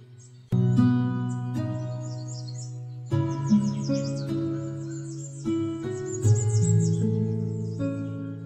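Loud, rich eclectus parrot calls with harmonic, whistle-like tones, several drawn-out squawks and hoots following one another with brief breaks, close and clear.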